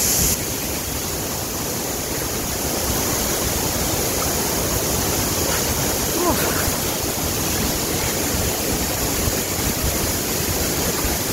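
Steady, loud roar of rushing water from Vera Falls in Malinao, Albay, constant and dense throughout with no pauses.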